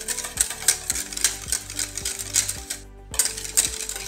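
A spoon stirring a small amount of butter into cream in a bowl, heard as a steady clinking and scraping rhythm of metal against the bowl, with a brief pause near the end before the stirring resumes.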